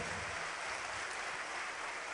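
Dense, steady audience applause at a Fire Prevention Day ceremony's after-event, an even wash of clapping from a crowd, fairly faint and distant with no voices.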